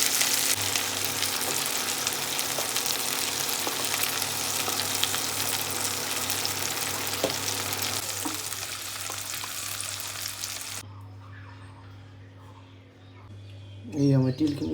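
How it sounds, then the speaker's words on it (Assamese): Chicken pieces fry in a pan in a village-style sesame chicken recipe, a loud steady sizzle close by that cuts off abruptly, followed by a short burst of voice. "চিকেনখিনি হাফ ফ্ৰাই হৈ গ'ল"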